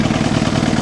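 A Kawasaki ZX7R motorcycle engine idling at about 1,300 RPM, a steady low throbbing rumble heard close and alone.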